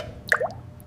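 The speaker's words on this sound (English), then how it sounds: "Drain the coolant." Rusty coolant drains from a 1960s Mini Cooper S, heard as a single close wet drip and plop followed by a faint trickle, with no talk.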